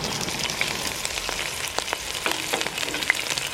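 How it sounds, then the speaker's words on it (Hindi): Onions with garlic-ginger paste fry in about a cup of hot oil, a dense, steady close-up sizzle with scattered crackles and pops and no talking. "1 कप ऑयल, इसमें प्याज हम फ्राई करते हैं।"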